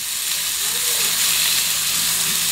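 Carrots and potatoes fry in a hot pan of oil with a loud, steady sizzle and hiss that stays close and unbroken throughout.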